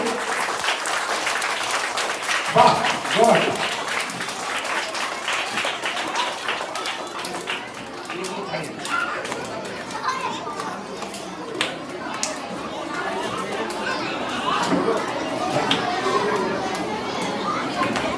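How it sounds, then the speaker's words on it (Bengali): Applause for a teacher at a school felicitation ceremony, with a crowd including children clapping steadily throughout, mixed with chatter and brief spoken praise. "সুপ্রভা ম্যাডামের জন্য একটা জোরে হাততালি"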